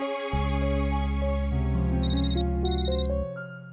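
A musical ringtone heard on an outgoing phone call plays a synthesized melody with sustained tones and a brief high chiming phrase, ending as the tune fades.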